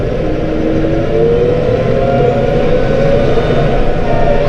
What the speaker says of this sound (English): This blower does okay. I mean, it blows fine.